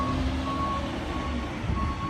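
A truck's reversing alarm sounds a steady run of evenly spaced electronic beeps over a low, rumbling engine, fairly close and continuous for the whole stretch.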